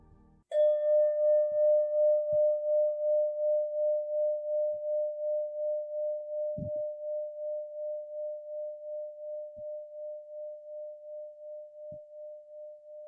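A single meditation closing bell is struck once and rings as a clear, pure sustained tone. The sound slowly fades over more than ten seconds with a gentle pulsing shimmer, while faint soft knocks sit underneath.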